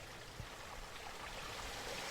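Damnation Creek flows beneath a wooden kingpost-style footbridge in a coastal redwood forest, a steady soft rushing and trickling of water, faint and continuous with no talk.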